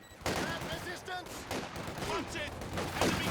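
Machine gun fire in Company of Heroes 2 comes in short bursts of rapid cracks, fairly quiet and mixed with other battle effects and a busy game soundscape.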